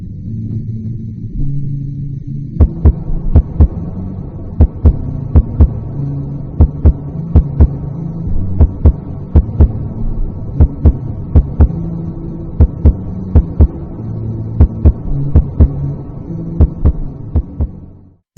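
Eerie game theme music from Forsaken for Guest 666, built on a steady, throbbing heartbeat that thumps in regular pairs over a low droning hum, loud and close, with no voices.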